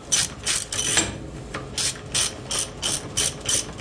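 A hand ratchet tightens a bolt on a Honda CRF450R dirt bike during suspension work, giving close, crisp bursts of pawl clicking in a steady back-and-forth rhythm, about eight strokes with no talk.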